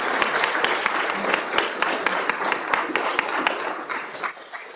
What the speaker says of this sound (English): let's just give everybody another round of applause for that